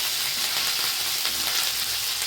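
Ginger paste fries in hot oil in a pan while cooking a pumpkin-stem dal, making a close, dense, steady sizzle and spatter throughout with no voices.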